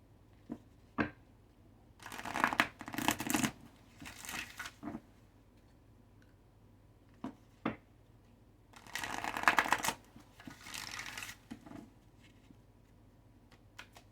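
A deck of divine guidance oracle cards being shuffled by hand, quiet and close, in two short bursts of papery riffling, with scattered soft taps and clicks between them and no talking.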